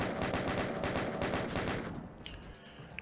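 A chain gun fires in the video game DOOM, a rapid steady burst of repeated shots for about two seconds, then stops, leaving faint game sounds behind.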